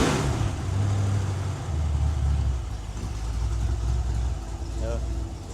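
Ford 302ci V8 idling steadily and fairly loud throughout, a low continuous rumble with people talking over it.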